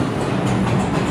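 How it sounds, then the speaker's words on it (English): A New York subway 6 train rumbles along uptown, a steady loud roar of wheels and car noise filling the whole moment with no voices. "So Chris and I made it onto the 6 train uptown."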